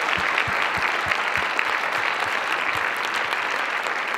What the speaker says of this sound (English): Can we please give them all one giant round of applause again?